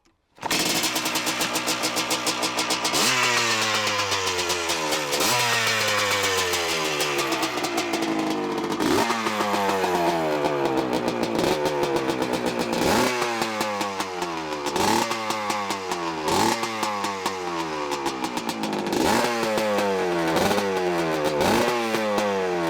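A 47-year-old two-stroke motorcycle engine fires up and is revved again and again, each rev climbing sharply and then falling away in a repeating pattern of raspy, close, loud blasts over a busy idle.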